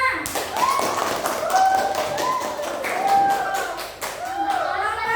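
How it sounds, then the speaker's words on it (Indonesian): Children clap their hands together in a classroom, a steady run of sharp, close claps with young voices calling out over them throughout. "Udah, tepuk tangannya mana?"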